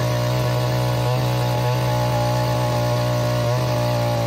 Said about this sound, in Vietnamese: Chỉ việc nhấn ga vào thả để máy tự khoan xuống.